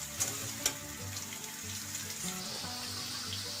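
Onion for a crab curry fries quietly in oil, giving a soft, even sizzle with a couple of faint clicks early on and no voices.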